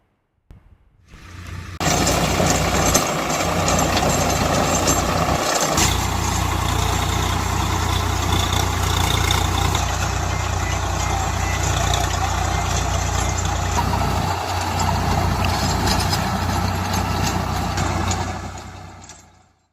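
A steady, heavy tractor engine rumbles continuously at close range for nearly the whole clip as it destroys cauliflower plants in a farm field, with no voices over it.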